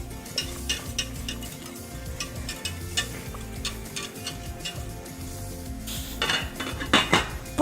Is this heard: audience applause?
no